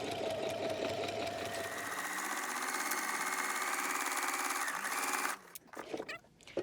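A sewing machine stitching a Cuddle pillow case runs in a steady, close, continuous whir for about five seconds, then stops and gives way to a few brief handling sounds.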